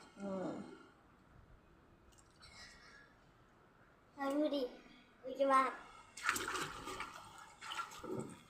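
A young boy splashes and plays in water while swimming, with bursts of watery splashing mixed among his excited voice and an adult talking nearby.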